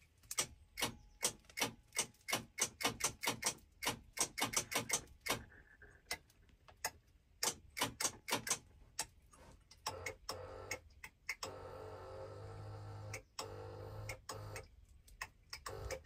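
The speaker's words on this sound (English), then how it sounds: "something is clicking back here." Repeated clicking from behind the dashboard of a tank, fast irregular clicks and ticks up close, followed by a steadier mechanical whirring hum with a few more clicks, no talking.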